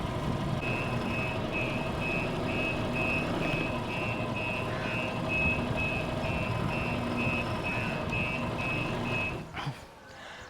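A truck's reversing alarm beeps steadily and rhythmically at close range over a low idling diesel engine, the beeps running for most of the stretch before stopping near the end; the vehicle is a 32-foot face-cowl truck chassis.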